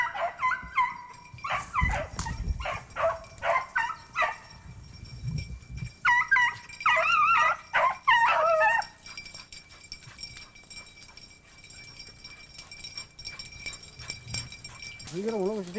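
Hunting dogs bark, yip and whimper in bursts through the first half, close and excited, then fade into quieter outdoor background with people talking.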